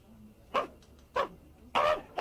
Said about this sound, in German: Eben erscheint der Hofrat Strobel mit seinem Hund Pepperl